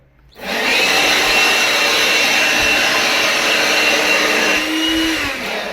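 A Makita 18V cordless blower switches on after a quiet moment and roars loudly and steadily at close range as a continuous high-pitched whoosh, dipping slightly near the end.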